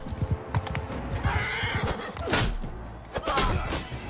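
In the Bannerlord video game with the Eagle Rising Roman mod, a horse whinnies amid a steady clatter of hooves and battle thumps, close and fairly loud.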